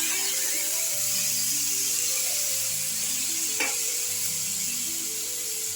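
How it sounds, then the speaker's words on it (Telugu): Tomatoes fry in a pan for a chutney, a continuous close sizzle with stirring scrapes and a sharp clink partway through, alongside a faint tonal hum. "ఇప్పుడు ఏం చేద్దాం, టమాటా వేయించాలి."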